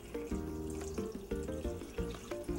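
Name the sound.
pouring two cups of water into pot for cherry dumplings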